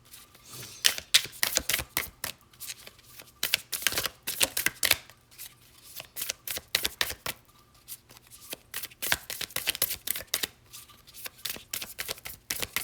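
Oracle cards being shuffled by hand, close-up and crisp, in quick bursts of riffling separated by short pauses, with no talking over them.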